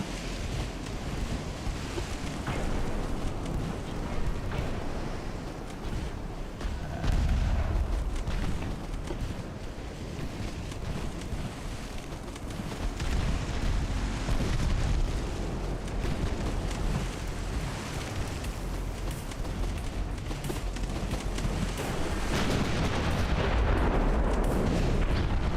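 Heavy 11-inch naval guns fire in Ultimate Admiral: Dreadnoughts during an early US naval battle, with repeated deep booming blasts rolling over a constant roar of sea and wind, loud and close.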